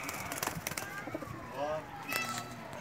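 Breeder pairs of mixed-breed Pakistani pigeons coo softly in a loft, their low calls faint beneath people talking and children's voices nearby.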